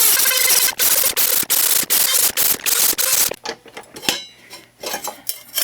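A glass bottle clamped in a vise is cut with a tool: loud, harsh rasping strokes in quick rhythmic bursts, then quieter, scattered scraping and ticking as the work slows.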